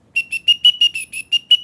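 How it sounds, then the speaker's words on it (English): A whistle is blown in about ten quick, sharp, evenly spaced toots, each one shrill and loud, sounding close with nothing else behind it. "Blow that whistle. I'll do my whistle too."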